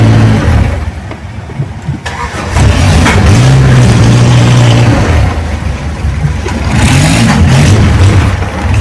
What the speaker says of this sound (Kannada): ಒಂದು ಬೋಟ್ ಆದಮೇಲೆ ಒಂದು ಬೋಟ್, ಒಂದು ಬೋಟ್ ಆದಮೇಲೆ ಒಂದು ಬೋಟ್.